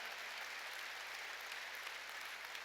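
A church congregation claps in worship during a Korean sermon, a faint, distant, even wash of applause with no voices heard.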